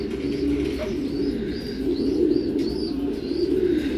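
Racing pigeons coo close by in a steady series of soft, repeated rolling calls over a low background hum.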